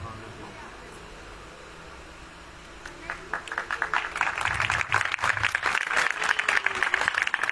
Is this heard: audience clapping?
yes